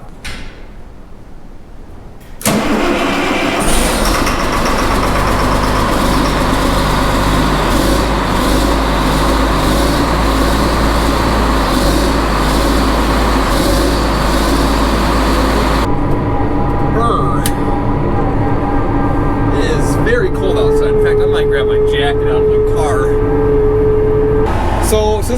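After a short quiet stretch, a diesel engine abruptly fires up and settles into a loud, steady rumbling idle close by.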